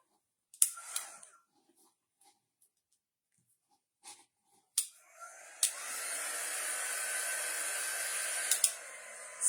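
A hair dryer blows steadily on a chalk-painted branch craft project, switching on after a few soft taps and clicks and running as a constant close whoosh through the rest of the clip.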